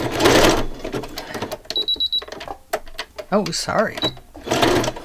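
A computerized sewing machine stitches through a ring-bound December Daily album, giving brief mechanical bursts and electronic beeps up close, while a person talks over it.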